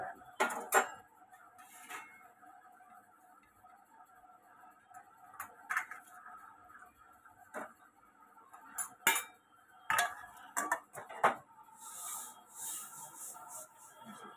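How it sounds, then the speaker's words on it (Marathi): Roasted sesame seeds scraped out of a pan onto a plate, scattered metallic scrapes and clinks of a spoon against the pan with short pauses between, fairly quiet and close, with no talking. "आता आपण तीळ भाजले। आता आपण एका प्लेटमध्ये काढूया"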